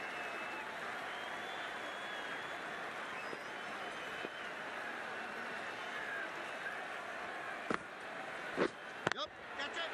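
A stadium crowd in the Cricket 19 video game, at a Jaffna Kings versus Galle Gladiators final, gives a steady wash of applause and cheering, with a few sharp knocks near the end and commentary voices over it.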